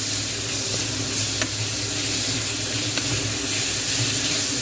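Onions and green chili fry in a pan for Chettinad chicken curry, giving a steady close sizzle with faint stirring scrapes throughout and no voices.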